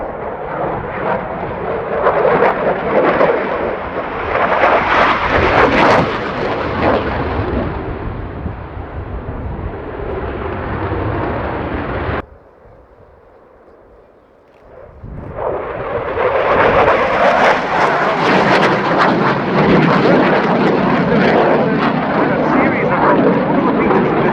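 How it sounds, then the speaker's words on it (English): A Swedish Air Force Saab Gripen with its single Volvo Aero RM12 engine performs at the Royal International Air Tattoo, a loud roaring jet rumble that swells, cuts away briefly to near quiet, then surges back powerfully, with commentary running underneath. "this is a single-engined aircraft, a single Volvo Aero RM12 engine."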